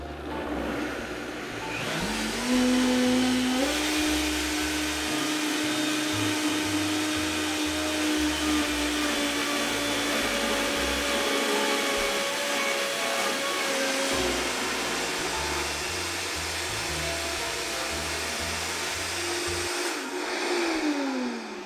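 A blender purées hummus ingredients at high speed in a loud, continuous motor roar whose pitch climbs early on and stays high for about twenty seconds before winding down.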